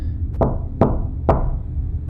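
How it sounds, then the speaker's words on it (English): Three light, evenly spaced knocks sound on a front door, dull and close, over a faint low background hum. "walked up to the front door, lightly knocking to announce my presence"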